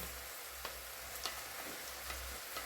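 Homemade stewed meat (tushonka) is tipped into a pan for a potato dish and sizzles with a constant soft frying hiss, broken by a few light knocks, under a low steady hum.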